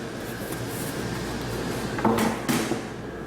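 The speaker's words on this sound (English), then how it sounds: "I'm going to open the door by just removing these latches. It's going to come out, lift straight off." A conveyor access door is unlatched and lifted off. Two short metallic clunks sound near the end, following a muffled shuffling of handling noise.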